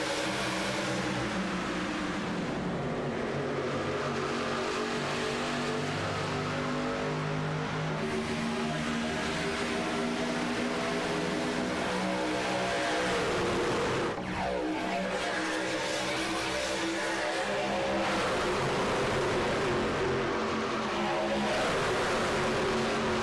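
Several stock race cars roar together at the green-flag start of the Bumpy Road 250, a loud continuous engine drone with rising and falling pitch as they accelerate past in a pack, dense and steady throughout.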